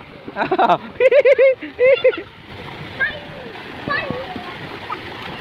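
Splashing as someone runs through shallow water at a water park, with bursts of loud, close splatter near the start, then quieter trickling and flowing water, and a voice heard talking over it.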